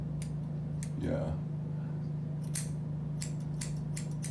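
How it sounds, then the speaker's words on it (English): New, sharp scissors snip hair during self-grooming, a quick series of crisp close cuts spread through the moment, with a steady hum underneath and a brief voice-like sound partway in. "these scissors are new"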